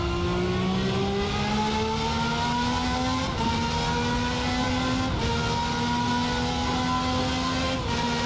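A detuned V12 race car engine in a sim racing game holds a high, sustained wail, dipping briefly at each upshift before climbing again, loud and continuous with no talk over it.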